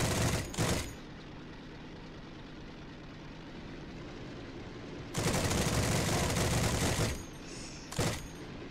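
Machine gun fire from an M3 Lee tank in Heroes and Generals, heard as two loud sustained bursts with brief single shots around them, set against a low, steady engine rumble.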